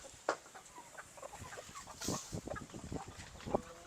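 Rhode Island Red chickens cluck in a poultry yard at dusk, with short irregular calls near and far and a louder squawk, over a steady background of farm noise.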